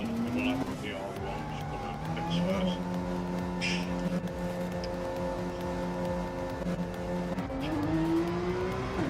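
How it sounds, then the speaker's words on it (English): Porsche GR3 race car pulling out of the pits during Daytona 24-hour qualifying, a steady engine drone with a rising rev toward the end, other race-car engine noise around it, with a commentator talking over it. "Big Popper's gone out in the Porsche."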